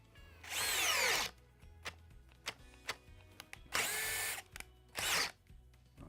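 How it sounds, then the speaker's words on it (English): Budget cordless drill with a spade bit boring a 1-inch hole in wood, three loud whirring bursts with rising and falling pitch, separated by short clicks and brief motor blips, close up. "we're going to take this spade bit and try it out and do about a 1-inch deep hole, 1-inch round"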